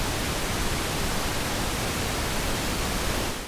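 Noise oscillator on GForce's software Oberheim SEM synth emulation, a continuous loud broadband hiss like rushing static, held steady and then tapering slightly at the end.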